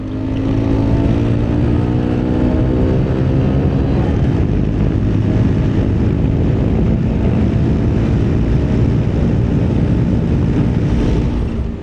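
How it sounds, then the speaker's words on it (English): Honda Monkey motorcycle engine fitted with a Takagawa aftermarket exhaust, running steadily and loud from close by with a constant droning tone, no talk. "if you buy one of these bikes, definitely get a Takagawa exhaust for it"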